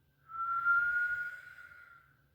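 A single slow inhalation drawn through pursed lips, producing a steady soft whistling tone with airy breath noise, close and quiet, rising and fading over about two seconds during a yoga breathing exercise.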